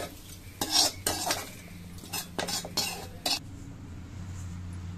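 A spoon stirs lentils with salt in a metal pot, giving a handful of short scraping clinks in uneven bursts against a quiet kitchen background, with no talking.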